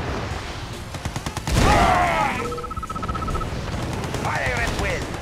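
Soviet units open fire in Yuri's Revenge, a loud burst of rapid gunfire and a heavy boom followed by sweeping whistling effects, with a short beeping tone and game chatter mixed in.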